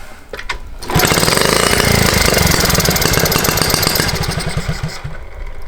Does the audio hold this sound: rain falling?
no